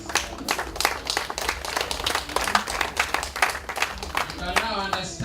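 A round of applause breaks out at a 2016 MOF dinner, many hands clapping in a quick, uneven patter that stays lively throughout the room.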